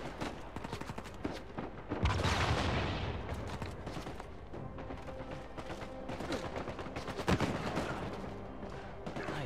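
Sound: gunshots in the video game Uncharted 4

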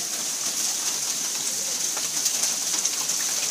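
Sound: hailstorm, hail hitting a car

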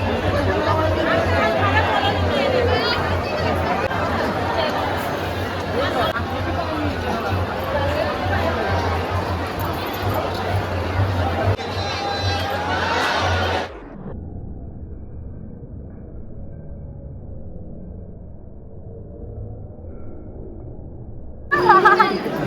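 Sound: crowd of visitors at Jyotiba temple, Kolhapur

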